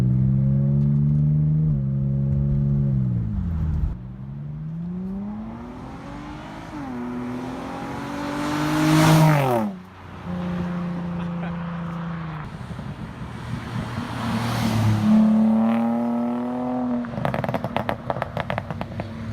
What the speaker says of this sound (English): So we have the old exhaust off, the new exhaust on.